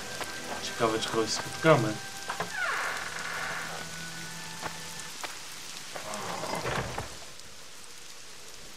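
Rain falls in The Witcher 2: a soft, steady patter runs under game dialogue and music, with a few louder bursts; someone talks over it.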